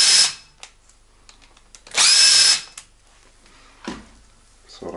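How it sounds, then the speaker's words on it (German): A cordless screwdriver drives screws out of a disassembled D50B0 motor in a workshop, giving two short whirring bursts, one at the start and a louder, longer one midway, with faint handling clatter between. "Und als nächstes dann wieder mit dem Akkuschrauber."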